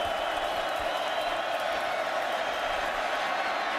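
A college football stadium crowd at Ohio State versus Michigan State, building on a third down, a loud, continuous roar of many voices filling the whole stretch.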